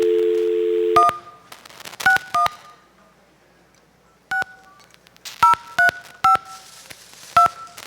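Touch-tone keypad beeps ring out in short separate presses and quick clusters after a brief dial tone, clear and close with no voices.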